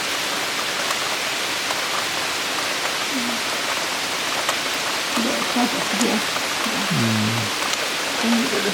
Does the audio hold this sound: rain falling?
yes